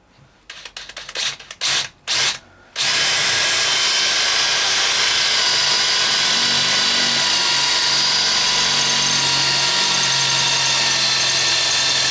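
A power drill bores a hole through a piece of scrap steel meant as the end piece of a homemade metal clamp, starting with a few stuttering bursts, then grinding steadily and loudly for several seconds, close up.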